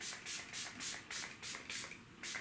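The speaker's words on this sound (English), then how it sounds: "this is the setting spray" Item Beauty setting spray pumped as a fine mist, a run of about seven short airy hissing bursts in even rhythm, close and fairly soft, with no talk.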